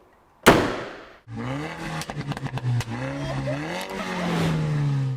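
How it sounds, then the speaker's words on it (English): Porsche 911 996 engine running with an odd rattling, tappy fault, a sharp start followed by a steady close engine note broken by a quick run of clicking taps. "996 sometimes makes this odd rattling tappy sound from this area."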